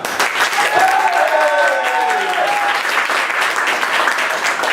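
A crowd applauds an improv team named Les Improbables at a French improv match, steady dense clapping filling the room throughout with a few overlapping voices and whistles briefly rising above it.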